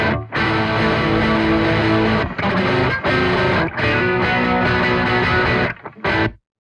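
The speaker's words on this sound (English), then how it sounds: "And then the Monolith is a distortion pedal." Heavily distorted electric guitar played through a Laney Ironheart Aurora DSP Monolith distortion pedal, loud sustained chords with a few brief breaks, alone and cutting off abruptly near the end.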